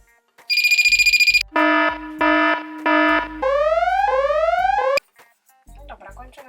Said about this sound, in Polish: I on ma wyć, jeśli dotknie go woda